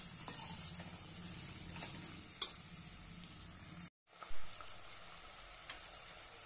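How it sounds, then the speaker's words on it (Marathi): Boiled black chickpeas being sautéed in a pan, a quiet steady sizzle with occasional spatula scrapes and clinks, close by, briefly cutting out before resuming. "छानपैकी परतून घेऊया। हरभरे आपले उकडलेले आहेत।"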